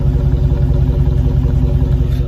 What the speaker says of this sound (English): Like, listen to this idle.